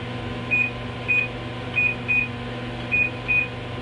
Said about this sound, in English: all I have to do is touch a sensor and uh, you'll hear a beep.